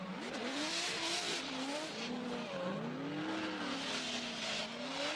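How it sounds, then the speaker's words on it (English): Formula Drift cars skidding at a round in New Jersey, including a V8 S13 and a turbo BMW, engines revving in wavering swoops with tire squeal and hiss from sliding, loud and continuous without audible voices. "A little feint initiation by Mordaunt."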